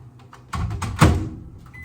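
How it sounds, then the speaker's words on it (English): A microwave oven is started: soft handling sounds, then a solid clunk of the door shutting and button presses, followed by a short electronic beep close up. "And now I just pop this in the microwave for about 15 to 20 seconds."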